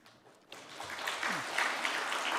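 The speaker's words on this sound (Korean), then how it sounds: "여기는 박수를 참 잘 쳐주시는 교회군요." Church congregation applauding during a Wednesday Lent evening service, a broad steady wash of clapping that swells after a quiet start and holds at moderate loudness.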